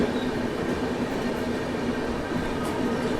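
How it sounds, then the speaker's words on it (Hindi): Lucknow–Chennai passenger train running, a steady close rumble and rolling wagon noise with a faint sustained tone, unbroken and fairly loud throughout. "ये मेरे ख्याल से लखनऊ चेन्नई गाड़ी होना चाहिए।"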